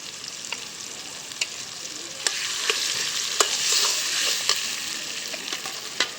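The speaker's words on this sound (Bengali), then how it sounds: "এখন এই যে বাটা মশলাটা দিয়ে দিব এখানে" A ground paste of ginger, garlic, chili, coriander and cumin with garam masala sizzles in a hot frying pan as it is stirred, a steady hiss broken by sharp scraping clicks of the spoon against the pan.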